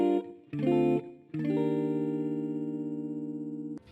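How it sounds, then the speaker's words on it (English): A guitar loop of sustained, slightly muddy chords rings out: two short strummed stabs, then a long held chord that fades before a sudden cutoff. "I have this guitar loop that sounds like this."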